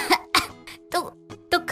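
Short bursts of coughing and throat clearing from a person choking on chili fumes in a kitchen, four or five sharp, close coughs separated by brief pauses.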